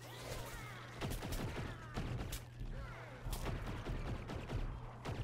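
Gunfire from a Garden Warfare 2 match: repeated bursts of shots and thuds over a steady low mechanical drone, dense and continuous throughout.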